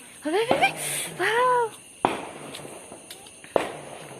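Small firecrackers burst outdoors during Naraka Chaturdashi celebrations: two sharp close pops spaced about a second and a half apart, following a child's and adult's raised voices.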